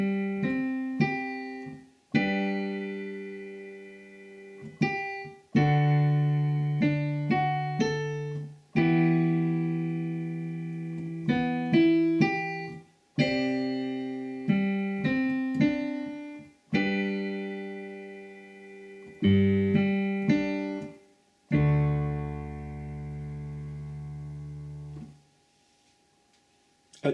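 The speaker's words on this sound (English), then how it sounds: "If we put that hands together very slowly, it looks like this." Piano keyboard plays a song slowly with both hands, low chords held under a higher melody, each sustained note decaying before the next at an unhurried pace, ending on a long fading chord.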